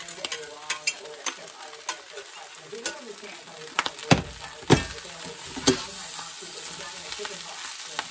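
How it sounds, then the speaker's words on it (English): Corn kernels pop and crackle in a cast iron skillet alongside potato and chicken succotash, a steady sizzle of frying broken by sharp, irregular pops, with a few louder snaps near the middle. "that popping you hear is the corn"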